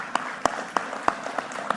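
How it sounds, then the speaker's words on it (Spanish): A few people clap at a church gathering to welcome two newcomers, sparse and irregular hand claps spaced apart in a quiet room, close and moderately loud. "Un aplauso."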